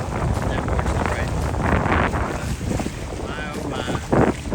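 Wind gusts buffet the microphone on a lakeside stretch of the Appalachian Trail, a steady roaring rush with rising and falling surges, while a hiker speaks briefly.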